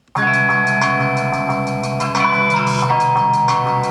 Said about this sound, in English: We can make a rough approximation of a plate reverb just using an old baking tray like this.